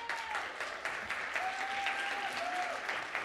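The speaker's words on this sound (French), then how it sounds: "Applaudissements pour elle, s'il vous plaît." An audience claps in a full, continuous round of applause for the French science journalist Dominique Leglu, steady and moderately loud, with a brief tonal whistle or cheer rising above the clapping.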